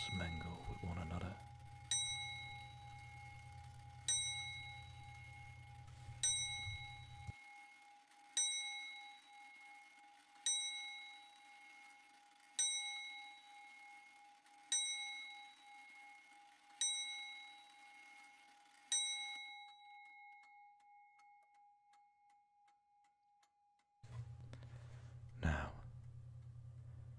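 A bell rung repeatedly in a calm relaxation setting, about nine clear bright dings evenly spaced with long ringing decays, fading into a sustained tone, with low hum at start and end.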